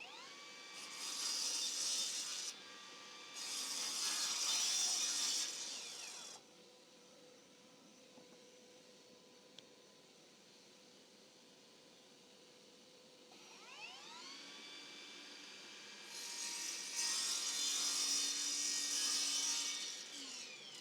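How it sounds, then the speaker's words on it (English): Miter saw cutting a strip from a wooden board, with two loud, close cutting bursts, a quieter pause while the motor winds down and spins up again, then two more loud bursts. No talk. "I'm going to be using my miter saw to make that cut"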